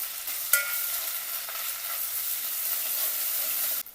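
Ginger garlic paste stir-fried in hot ghee with bay leaf and whole spices gives a steady, close, bright sizzle, with a sharp utensil click near the start and another at the end.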